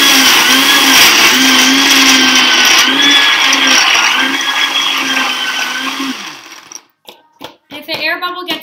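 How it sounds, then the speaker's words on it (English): Countertop blender whirring at slow speed through a smoothie, a loud steady motor hum that winds down and stops near the end, followed by a few clunks and a brief voice. "I'm going to blend it at a slower pace first"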